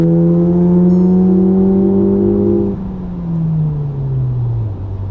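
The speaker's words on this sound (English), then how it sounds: "Now let me do a quick full throttle before this traffic catches up with me." A car fitted with a Baun performance exhaust goes to full throttle, its loud, rising exhaust note holding a strong howl before a gear change drops it into a lower, fading drone.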